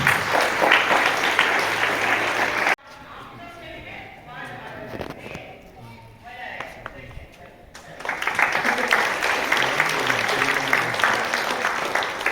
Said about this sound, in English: let's welcome Aditi with a huge round of applause